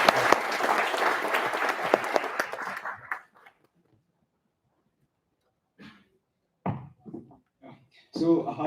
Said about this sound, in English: can we have a big round of applause for Binny Bansal sir once again?